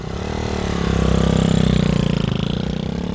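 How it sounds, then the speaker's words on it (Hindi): A motorcycle engine runs just after being kick-started, a loud, close throbbing idle that swells slightly and then settles into a rapid pulsing rumble. "बाइक झट से स्टार्ट हो गई।"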